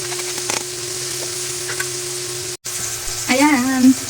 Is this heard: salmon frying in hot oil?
yes